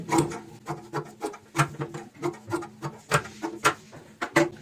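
Scissors snip through fabric while cutting a cushion cover piece with a half-inch margin, a steady run of close, crisp rasping cuts repeating roughly every half second, with no talking.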